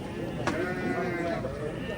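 Sheep bleat at a busy livestock market in Karakol amid the crowd's chatter, one sharp call standing out briefly while people talk and bargain nearby throughout.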